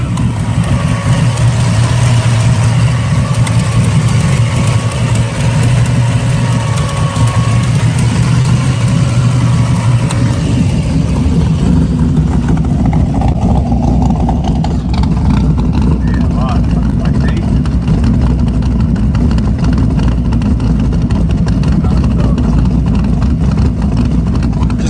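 A 1972 Chevrolet Chevelle with a 383 stroker engine runs with a steady, deep, rumbling exhaust note at idle, loud and continuous throughout, with the low drone deepening partway through.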